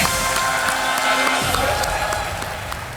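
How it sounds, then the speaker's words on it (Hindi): Studio audience applauding and cheering as new contestants are welcomed on the Hindi quiz show Kaun Banega Crorepati, a dense, steady wash of clapping that fills the whole stretch at close range and eases off slightly toward the end. "तालियां बजते रहें इनके लिए"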